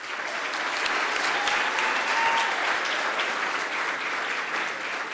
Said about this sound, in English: Please join me with a round of applause for the Civic Leader of the